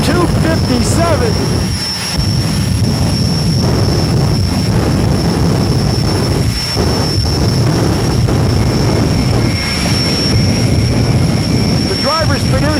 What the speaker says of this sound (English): Drivers produce this fire and smoke show by running the engine and doing all the trick stuff with the afterburner.